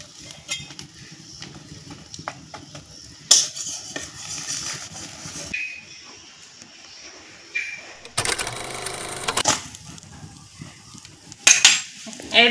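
An egg paratha cooking in a kadai: a low sizzle runs under intermittent scrapes and clatters of a utensil against the pan as it is turned, with a louder, denser frying burst partway through.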